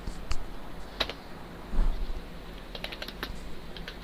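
Close, brisk typing on a computer keyboard as a command is entered, a run of quick irregular key clicks with a firmer keystroke partway through, over a steady hum, no talking.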